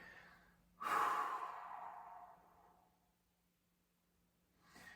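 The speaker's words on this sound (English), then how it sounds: "Just breathing through these stretches." A single deep breath, a long audible exhale like a sigh, comes close to the mic during a seated lower-back stretching sequence, then fades into quiet before another breath begins at the end.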